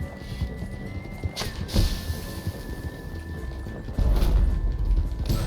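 Horses ridden by mounted riders in a western shooter video game, heard as a busy mix of hoof clatter and whinnies amid game noise, with a heavier burst of rumbling activity near the end and no talking.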